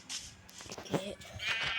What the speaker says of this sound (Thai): เราจะทำการฆาตกรรมแกะ